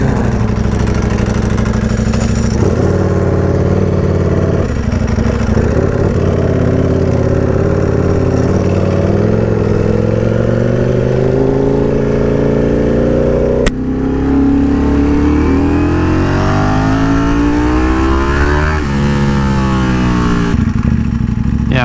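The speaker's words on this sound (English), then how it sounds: "Bike is loud, turning heads," A loud Ducati Panigale V4R motorcycle is ridden hard, its engine roaring close by and revving upward through several rising sweeps, with a sharp break partway through before climbing again.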